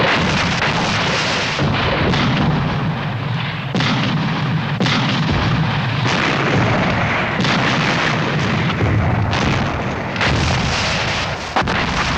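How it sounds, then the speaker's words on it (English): A dawn artillery barrage is fired in the Second World War advance on Ortona, Italy. Heavy guns thunder continuously at close range, with overlapping booms and blasts forming a loud, unbroken roar throughout. "A great artillery barrage was planned."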